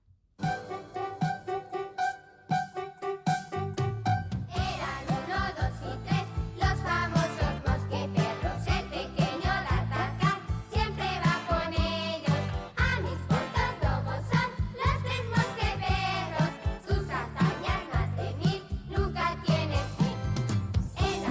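An upbeat, busy theme tune with full band and bright melody, opening with a few soft notes before the music kicks in and plays continuously.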